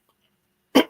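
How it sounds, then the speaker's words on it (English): A single short, sharp cough bursts out at close range after near silence. "When is this cough ever going to disappear?"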